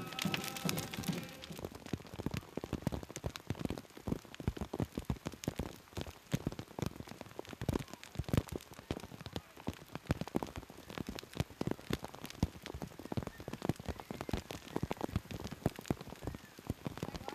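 Steady rain falls and patters densely on a surface in Northern Saskatchewan, continuous and close, with irregular crackling drops throughout and no voices.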